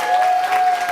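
An audience claps in a short, dense burst of applause that lasts under a second, loud and close.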